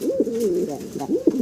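A young Madrasi pigeon coos close by, a run of throaty warbling calls with a few quick rises, rhythmic and clear.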